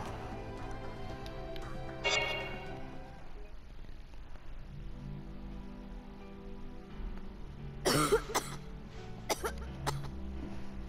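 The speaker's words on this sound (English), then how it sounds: "Oh, you sure cough a lot sometimes, Remsky." A character with a mild case of asthma coughs during a Final Fantasy Type-0 cutscene. Two sharp coughing fits, one early and a louder, harsher one later, break through a quiet ambient background.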